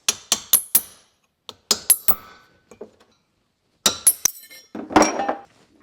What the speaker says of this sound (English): that can be done pretty easily by just using a chisel in a couple different spots